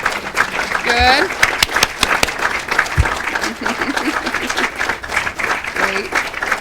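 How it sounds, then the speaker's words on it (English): Audience applause in a hall for a group of Christian Science nurses, steady clapping with scattered voices and a brief vocal exclamation mixed in. "Let's give them a hand of applause."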